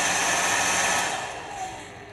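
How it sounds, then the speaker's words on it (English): A handheld hair dryer with a dead-man's push button and a high-heat switch runs as a steady broadband whoosh. It stays loud and close and eases off slightly toward the end, with no talking. "the dryer won't actually come on unless you push this button"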